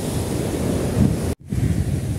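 Ocean surf breaking on the shore at Barangay Tumiis, Villa Norte, Alabat, Quezon, a steady loud wash of waves with wind buffeting the microphone and a brief dropout near the middle.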